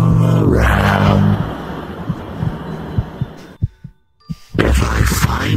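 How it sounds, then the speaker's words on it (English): Heartbeat sound in a Sonic.exe encounter in the VRChat video game: a series of soft, regular thumps under a droning hum, pausing briefly into near silence before the louder hum returns. "I can hear your heartbeat all around."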